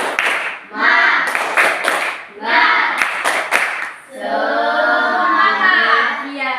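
A group of children chants a cheer together in rhythm, loud close voices broken by sharp bursts of synchronized claps, then a sustained shouted chant.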